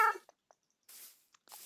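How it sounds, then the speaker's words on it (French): Minecraft cat meows once at the start, a clear tonal cry, followed by sparse faint game clicks and two brief breathy noise bursts. "viens, petit chat."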